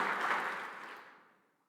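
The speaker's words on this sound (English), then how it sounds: "Let's give that a round of applause" Audience applause after a remark by New York Governor Kathy Hochul at a breakfast event, a short burst of clapping that starts full and fades out over under two seconds, fairly faint.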